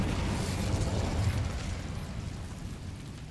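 A spell explosion with fire in the Hogwarts Legacy video game, a heavy rumbling blast up front followed by a crackling, roaring burn that slowly fades.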